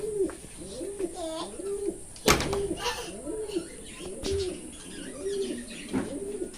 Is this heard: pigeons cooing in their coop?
yes